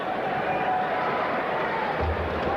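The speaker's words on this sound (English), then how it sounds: "Listen to this crowd." Dense, steady roar of an arena crowd at a college basketball game between North Carolina and NC State, loud and continuous with broadband murmur and no clear individual voices.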